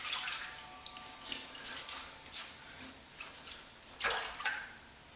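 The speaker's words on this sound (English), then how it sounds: "I'll perform a slight rinse." Water running and splashing as a safety razor is rinsed under a tap, a soft continuous trickle with a few brief louder splashes and drips, close by.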